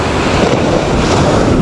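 Ocean waves breaking over a shallow reef, heard as a loud, continuous rushing wash with heavy wind buffeting the microphone and no distinct individual crashes.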